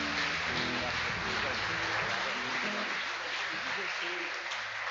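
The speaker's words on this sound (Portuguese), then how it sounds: "Palmas pela vida do pastor." A church congregation claps for the pastor during a campaign-night service, a dense, even wash of applause lasting several seconds over a low background of voices and tones that fades slightly at the end.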